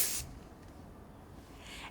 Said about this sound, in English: A little bit more spray.